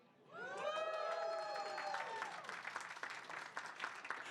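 An audience at the Awesome Games Done Quick 2026 event breaks into loud applause with whoops and cheering shouts, sustained clapping continuing to the end of the clip.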